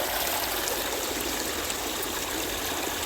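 Fresh, clear water at Naga Theertham in Tirumala rushes and trickles in a steady, even wash with no voices.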